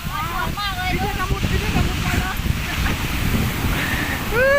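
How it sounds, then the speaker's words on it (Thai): Sea waves wash onto a beach with constant rushing surf and wind noise while people talk and exclaim over the water. "เจอคลื่นทะเล"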